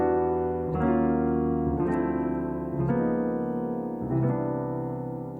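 Sustained jazz chords, including minor nine shapes, change four times in a slow, even rhythm, each one ringing warmly into the next at moderate volume.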